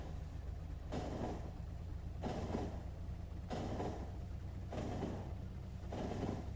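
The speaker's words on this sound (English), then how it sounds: "two trains in the intersection" Trains rolling through a rail intersection in the video game Factorio give a steady low rumble, with four evenly spaced swells of brighter clatter as the cars pass.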